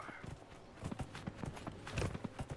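A horse clip-clopping along in the video game Dragon Age Inquisition on PS3, a steady run of soft, rhythmic hoof beats at a moderate distance, fairly quiet and without talk.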